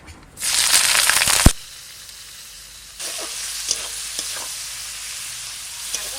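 Whole garam masala spices, bay leaf and onion hit hot oil in a kadai with a loud, close burst of sizzling, which then settles into a softer steady fry broken by a few sharp stirring clinks.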